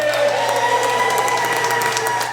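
Dense, sustained applause and cheering from a crowd at the opening ceremony of Irving Fire Station 4, a continuous roar of clapping without a break.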